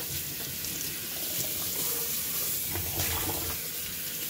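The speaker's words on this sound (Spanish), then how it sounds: "Entonces ahora la voy a enjuagar bien" Steady hiss of hot tap water pouring into a sink as a cooking pot is rinsed after washing with soap during chicken cleaning, continuous and fairly close, with some splashing and no talk.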